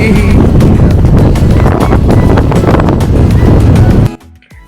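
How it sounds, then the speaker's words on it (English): Strong seaside wind on a Puerto Rico beach buffets the microphone in loud, rough gusts that roar continuously, then cut off abruptly near the end, leaving near silence. "Windy."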